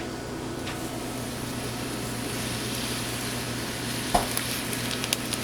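Heavy cream simmers in a pan for a cod dish with onion cheddar cheese sauce, giving a steady, close bubbling hiss, with a few light clinks near the end.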